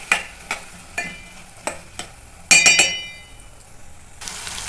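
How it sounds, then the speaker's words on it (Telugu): Potato pieces are tossed in a frying pan with evenly spaced spatula taps and scrapes over a low sizzle, then a brief cluster of bright metallic clinks and a louder burst of frying. "బాగా ఫ్రై చేసుకోవాలి."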